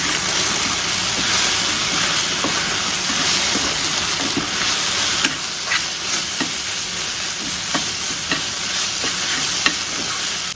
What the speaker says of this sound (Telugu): బెండకాయ ఫ్రైకి ఎప్పుడే కానీ మూత పెట్టకోకుండా వేయించుకోవాలన్నమాట